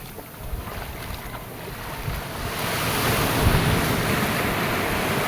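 Strong sea waves at a Philippine beach, a broad rushing surf roar that swells louder midway and stays dense, mixed with gusty wind buffeting the microphone.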